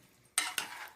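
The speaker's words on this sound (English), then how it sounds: "I'm stirring, as you can see." Calabasa squash and chicken stirred in a frying pan: two sharp scraping sizzles about a fifth of a second apart, close and fairly quiet, with no voices.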